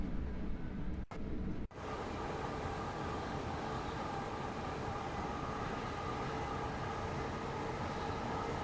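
A Class 465 electric multiple unit with a modded sound set in Train Sim World 5 rumbles steadily and loudly on its own, a continuous running roar after two brief dropouts near the start.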